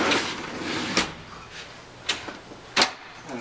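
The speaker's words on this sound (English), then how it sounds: "And we'll open the drawer" A map cabinet drawer at a university map library slides open with several short scraping and thumping bursts spread over a few seconds, close and moderately loud in a quiet room.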